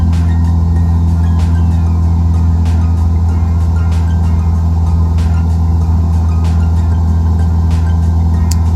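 A Cessna 172 engine in a flight simulator game, a loud steady droning hum with a constant low rumble and faint periodic clicks, alone with no voices.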